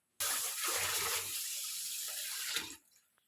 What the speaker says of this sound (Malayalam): ഞാൻ കഴുകി വൃത്തിയാക്കി എടുക്കട്ടെ.